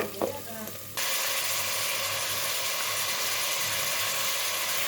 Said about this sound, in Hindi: आपने ज़्यादा से ज़्यादा 10 सेकंड तक इसे हिलाना है।